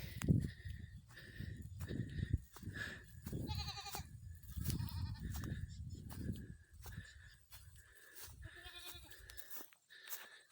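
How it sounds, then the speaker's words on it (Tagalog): Several goats bleat repeatedly, overlapping calls at close range, with faint shuffling and farmyard noise in between. "Mga kambing."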